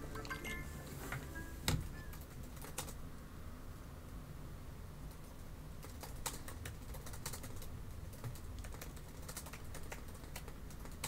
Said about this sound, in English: I was just typing stuff